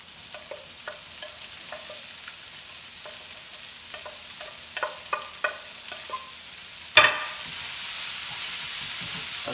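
Chopped tomato sizzling and frying in a pan for a breakfast with eggs, a soft steady sizzle with occasional light stirring clicks, then a sudden louder hiss as more food hits the hot oil.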